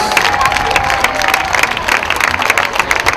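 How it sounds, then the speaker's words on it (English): Outdoor crowd at the 2019 Fort Wayne dragon boat races breaks into clapping and cheering for the racers, with scattered shouts and whoops over dense, fairly close applause. "Let's give a round of applause for all of our racers."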